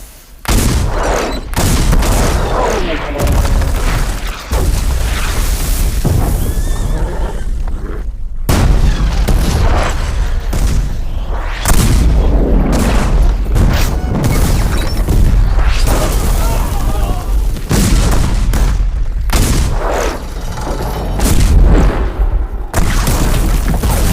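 Cannon fire at a fort, loud repeated booms and heavy blasts in rapid irregular succession, some overlapping like a barrage, with crashing debris and shouting voices mixed through the din.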